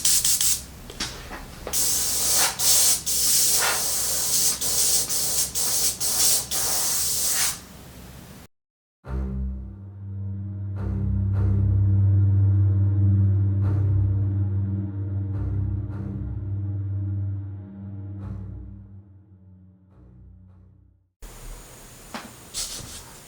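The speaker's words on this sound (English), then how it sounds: "got my air compressor kicked on" Air compressor powering an airbrush while spray painting a 3D-printed bust: sharp bursts of spraying hiss, then a loud steady motor hum with clicks for several seconds, cut off before spraying resumes.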